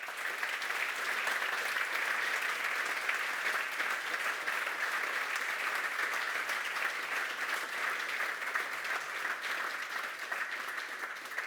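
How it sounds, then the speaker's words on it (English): Sustained applause from a conference audience at an opening session, a steady dense patter of clapping that holds at an even level throughout with no voices standing out. "Please give them a whole round of applause"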